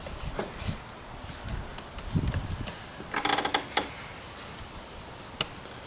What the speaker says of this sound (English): He's going to tighten those two hose clamps down.